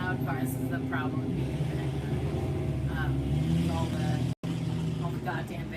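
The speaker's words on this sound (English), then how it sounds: "I know, a little loud car." A loud car passes close by outdoors during a casual pride-party livestream, its engine rumble swelling and fading under ongoing talk.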